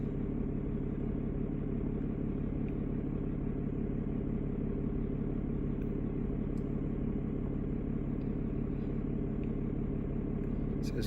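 A Ram pickup's 6.7 Cummins diesel engine running at a steady idle, a continuous, loud, low rumble that holds unchanged throughout without pauses.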